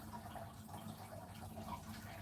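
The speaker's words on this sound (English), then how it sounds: "You guys can probably hear the water running in the background." Water runs quietly from a tap in the background at a hydroponic garden nursery, a soft continuous trickle and splash that stays faint throughout.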